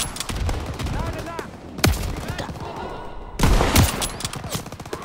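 Gunfire in the World War II shooter game Call of Duty: WW2, with loud sharp bursts of shots over a constant battle din and faint voices underneath.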